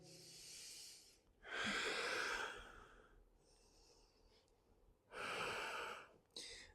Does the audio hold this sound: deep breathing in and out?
yes